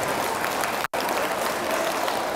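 Middle school students in a room clap loudly in a thick, continuous burst of applause, broken only by a momentary dropout partway through.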